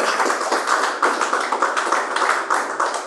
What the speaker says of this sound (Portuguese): Palmas para Jesus novamente